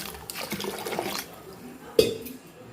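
Water is poured into a pressure cooker holding lentils, small onions, chilli and tomato, with a soft, splashing flow and a brief knock against the vessel near the end.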